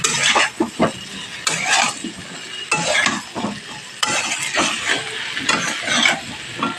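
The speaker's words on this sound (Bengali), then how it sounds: "ব্রকলি ভালো করে কষিয়ে নিতে হবে" Broccoli and pre-fried potatoes are stir-fried in a pan: a steady close sizzle with repeated scraping and tossing strokes of a spatula, loud and continuous, no talking.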